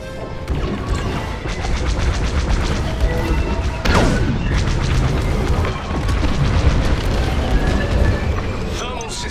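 A thermal core blowing up in Star Wars: Squadrons, with heavy booming crashes and a falling whistle over a dense, continuous roar of starfighter combat, loud and sustained, with radio voices mixed in.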